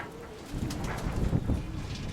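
Steel white-tailed pigeons, a cock and hen, give soft low cooing close by, a short rolling coo over faint background noise.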